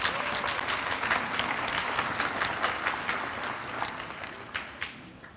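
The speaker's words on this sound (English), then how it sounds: "So I just wanna give you guys another round of applause" A large crowd at a South Suburban College commencement ceremony applauds in a sustained, even roar of clapping, moderately distant, easing slightly toward the close with a few sharper claps standing out.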